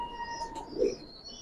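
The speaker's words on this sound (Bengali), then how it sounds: "মাদিটা সম্পূর্ণ লাল গিয়ারের ভিতরে দেখেন আলহামদুলিল্লাহ অনেক সুন্দর কবুতর" A red-eyed hen pigeon gives a single short, low coo close by against a faint background hum.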